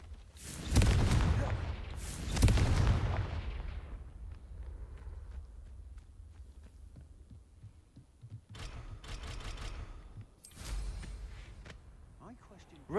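Confringo blasting spell explosions in the Hogwarts Legacy video game, with two loud booming blasts early on, a fading rumble, then sharper bursts later.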